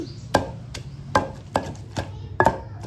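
Raw mango pickle ingredients pounded by hand, with about seven sharp, distinct thuds at an irregular, unhurried rhythm, each strike close and clear over a low steady background hum.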